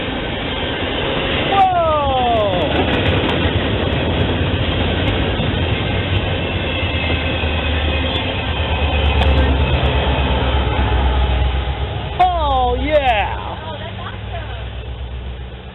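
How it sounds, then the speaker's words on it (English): A Union Pacific freight train with the Chicago and Northwestern Heritage Unit, UP 1995, running as the rear DPU locomotive, rumbles steadily past at close range, its low wheel and engine roar sustained throughout, with brief squealing tones rising and falling over it. "UP 1995, the Chicago and Northwestern Heritage Unit, serving as the rear DPU locomotive."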